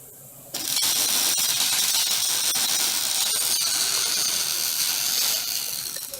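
A MIG welder lays a bead, its arc starting abruptly into a continuous crackling, sizzling hiss that holds steady and close for several seconds.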